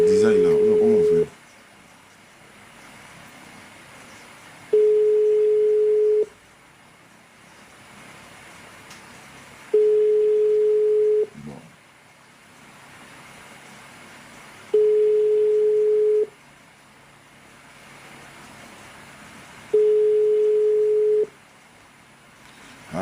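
Telephone ringback tone of an unanswered call: a steady pure tone sounding in five evenly spaced bursts of about one and a half seconds, with quiet gaps between them, loud and alone with no talk.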